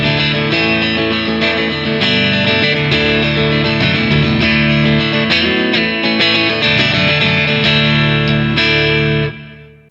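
A Schecter PT EX baritone electric guitar strums chords on an in-between pickup position through effects. The tone is loud, full and sustained with a processed, slightly distorted edge, and the ringing chords fade out at the end.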